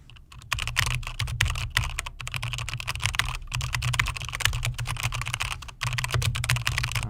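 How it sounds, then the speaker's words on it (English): Fast, steady clatter of keys on a computer keyboard, close and continuous with dense clicking and a low background hum throughout, no voices. "I'm just going to pretend to type a bit"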